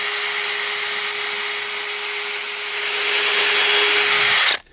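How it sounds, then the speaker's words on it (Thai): A cordless drill bores holes in wood outdoors, its steady high whine running loud and unbroken for several seconds, swelling slightly near the end before it abruptly cuts off. "เจาะรูตามขนาดที่วัดไว้นะคะ ใช้สว่านไร้สายค่ะ"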